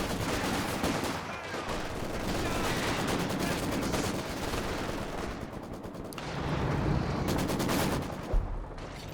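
Company of Heroes 2 battle audio: an artillery concentration barrage and dense gunfire rumble continuously, with repeated bursts of shots and explosions layered loud and close throughout.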